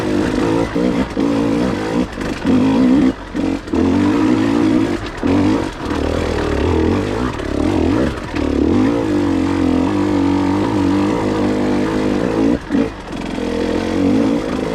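A KTM 150 XC W TPI two-stroke dirt bike rides single track, its engine buzzing loudly and steadily, revving up and down with brief drops where the throttle closes, heard up close throughout.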